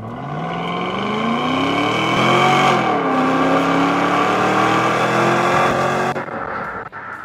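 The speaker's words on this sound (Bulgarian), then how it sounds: "Това допринася и за страхотният звук, който излиза от ауспусите на този автомобил." Volvo S80 with the 4.4 engine, 315 hp and four-wheel drive, roaring through its exhausts, a loud close rev that climbs, dips briefly and holds strong before dropping off near the end, with no talk over it.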